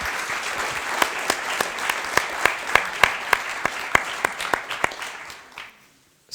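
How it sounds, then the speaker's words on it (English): An audience applauds Sacha Lazimi, CEO of Yubo, at an evening talk event. Dense, even clapping carries a few sharp, louder individual claps and fades out to silence near the end. "let's give him a big round of applause."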